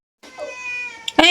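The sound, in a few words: cat meowing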